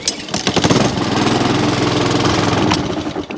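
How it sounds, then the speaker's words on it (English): A Honda HRX537 lawn mower engine pulled into life on choke after a service and carburettor cleaning, roaring up loud and close with a steady knocking beat, then dropping away at the end. "we'll give it a bit of a run and see if it hasn't got rid of that horrible knocking noise"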